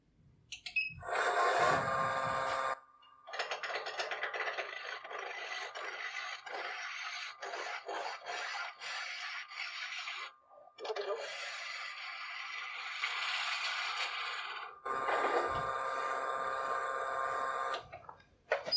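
A steady rasping, scraping drone of a spindle roughing gouge cutting spinning wood on a lathe, in several long bursts with brief pauses between them, fairly loud and close.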